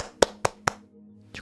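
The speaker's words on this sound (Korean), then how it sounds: "그리고 박수가 터져 나오셔야죠." Four sharp, isolated hand claps come in an uneven rhythm, with a pause before the last one. They are quiet and close against near silence.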